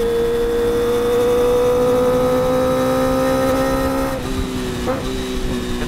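A Kawasaki ZX-25R motorcycle with an aftermarket exhaust downshifts, its steady high-pitched engine whine dropping in pitch after a few seconds, moderately loud and close, with faint background noise.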